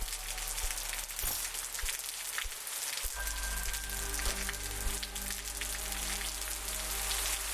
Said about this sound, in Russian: Пошел дождь.